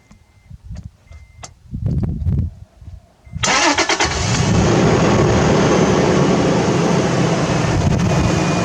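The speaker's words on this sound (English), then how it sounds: "So start the truck up here and get the oil flowing" A Toyota Tacoma pickup truck's engine cranks with a few short bursts, then catches and settles into a steady, loud, close-up idle.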